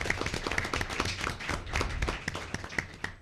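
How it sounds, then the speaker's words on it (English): A commission meeting audience gives scattered, fairly quiet applause, individual claps and taps standing out in an uneven, thinning patter. "Let's one more time for applauding the great video."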